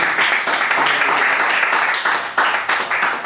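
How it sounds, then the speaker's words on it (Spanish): A church congregation applauds together in a steady, dense burst of clapping that fills the room, with a few louder surges near the end and no one speaking over it. "Démosle un fuerte aplauso al Señor."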